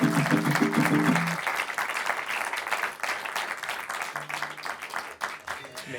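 Concert audience applause after a set at a KFOG private concert, a broad wash of clapping from a crowd that starts full and gradually thins, with some tonal music fading out at the start and a voice over the clapping.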